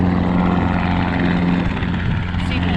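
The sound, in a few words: helicopters flying overhead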